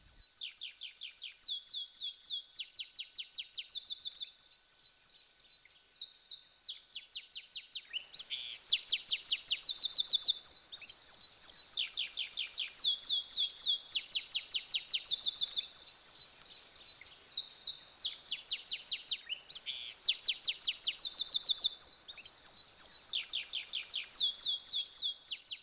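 Small birds near the water's edge at Teide in the Canary Islands, including canaries, blue tits, blue chaffinches and turtle doves, sing bright repeated trilling phrases in a continuous rhythmic chorus, loud and close, with no voices.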